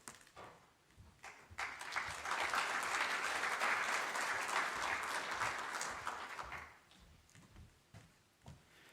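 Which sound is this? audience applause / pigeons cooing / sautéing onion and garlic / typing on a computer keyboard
audience applause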